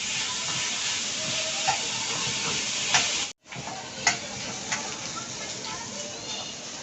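Chopped onions fry in a pan for a leafy vegetable bhaji, a steady hissing sizzle with occasional scraping and clinking as they are stirred, close by, with a momentary break partway through.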